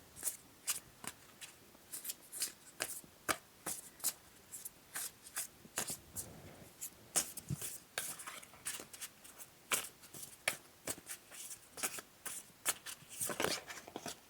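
Tarot cards are shuffled by hand in a long run of quick riffling and slapping bursts, close and fairly quiet, with no voices.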